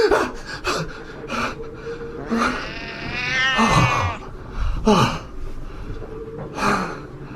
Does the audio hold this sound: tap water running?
no